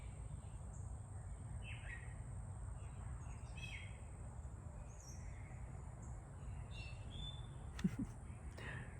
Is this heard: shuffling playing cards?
no